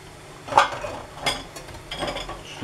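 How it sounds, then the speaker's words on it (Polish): Fusilli pasta is tipped into a pot of water, giving a couple of short clattering rattles and a softer scrape against the pot, with no talking. "Czyli wrzucamy makaron."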